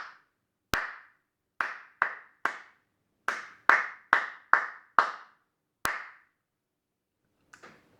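Hands clapping out a rhythm alone, about a dozen sharp, close claps in uneven groupings with a couple of louder accents, followed by a pause and a faint pair of taps at the end.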